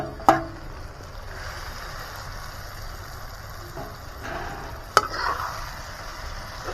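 Steady sizzle of tiger prawns frying in hot oil, with a couple of sharp clanks from a utensil stirring the pan.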